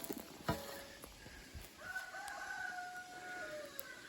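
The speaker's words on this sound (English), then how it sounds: "he's just gonna do a 3 cock-a-doodle-doo salute" A rooster crows once on a farm, a long rising and falling call over faint background clucks and scattered small knocks.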